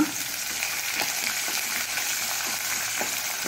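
Curry leaves crackling and sizzling in hot oil in a pan while being stirred for Mangalorean avalakki usuli, with a steady dense fry hiss and light scraping stir clicks throughout, close up, with no talking.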